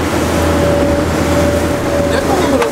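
A motorboat engine drones steadily at speed on icy, cold open water, a loud close hum with a sustained tonal whine over wave and wind noise, continuous throughout.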